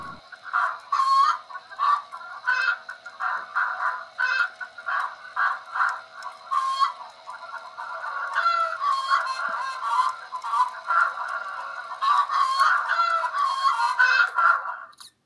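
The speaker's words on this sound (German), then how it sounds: "Nun noch das Geräuschmodul des Hühnerhofes." Chicken yard sound module on a Märklin H0 model railway layout plays a steady stream of clucking fowl and honking geese, with occasional rooster calls, continuous and moderately loud for the whole stretch with no talking.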